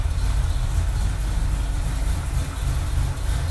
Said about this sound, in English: The motor sounds really good. I love the ping in the header.